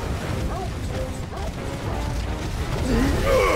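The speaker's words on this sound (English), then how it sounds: "Just smashing all those barriers, shields, whatever they're called." Barriers being smashed in Final Fantasy XVI: clattering, mechanical crashes and ratcheting impacts over a busy game soundscape, with tonal effects rising near the end.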